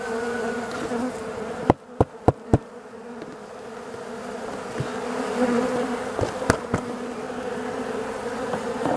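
Honeybees buzz around an open hive during a morning inspection, a dense continuous drone with individual bees passing near, plus a few sharp knocks or taps from the hive work.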